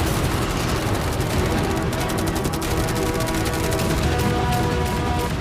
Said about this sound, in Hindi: इन सभी मशीन गन्स के साथ वहाँ पर है पूरे 100 कैनन्स